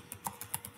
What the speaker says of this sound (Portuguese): E vou dar um enter